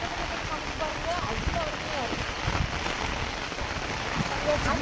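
Steady rain pours down outdoors, a dense even hiss of drops striking surfaces with no break, heard at moderate level throughout.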